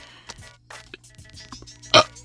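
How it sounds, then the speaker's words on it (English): A single short burp from a man, low and wet, standing out briefly amid quieter background noise and small clicks. "damn, I had a burp, sorry"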